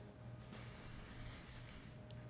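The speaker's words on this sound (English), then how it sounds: "I spray it and let it settle." Hairspray hisses from a can onto hair in a salon, one steady close spray lasting a second and a half.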